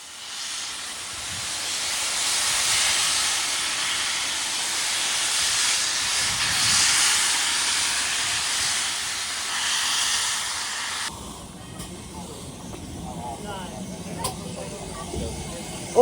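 A steam locomotive on a tube line lets off a loud, sustained hiss of steam that runs for several seconds before stopping abruptly, leaving quieter station ambience with people talking.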